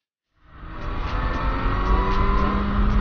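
Car engines and road noise in Palermo city traffic, starting abruptly after a short silence and holding steady and loud, with revving and passing vehicles close by.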